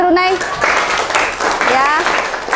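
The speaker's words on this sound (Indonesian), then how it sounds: "Kasih tepuk tangan dong buat Runai." Brief clapping from a classroom of students for a classmate, mixed with a teacher's voice and children's voices over the short burst of applause.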